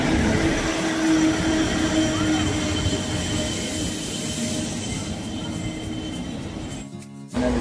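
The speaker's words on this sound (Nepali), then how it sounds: "साथीहरू 2 घन्टाको वेटिङ पछि बल्ल ट्रेन आयो।" A train rolls into a station after a long delay, with a loud, steady rumble and grinding wheels and a high squeal running through it. The noise continues throughout and cuts off abruptly near the end.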